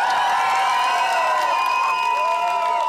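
Crowd at a street karaoke contest on a public square cheers and claps for a contestant, a loud continuous roar with whistles and high shouts layered over scattered applause.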